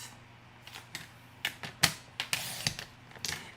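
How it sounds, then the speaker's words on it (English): Card stock is cut to measure with a series of sharp, close clicks and short slicing snaps, spaced irregularly over a few seconds without any talking. "So I'm going to cut this to measure"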